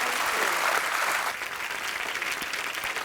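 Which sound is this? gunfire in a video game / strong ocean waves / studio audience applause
studio audience applause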